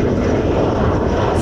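Airplanes coming in to land at an airport in Okinawa produce a loud, steady jet roar that fills the scene continuously, close and powerful.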